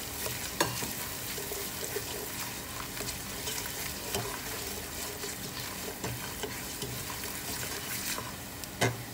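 Rice with a spice mix of turmeric, garam masala and cumin powder is stirred in a frying pan, steady scraping and soft clinks over a low sizzle, close and moderately loud throughout.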